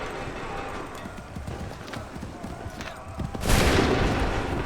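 Musket gunfire in Assassin's Creed III erupts as a loud crackling volley midway through, following a stretch of clattering hoofbeats and battlefield commotion.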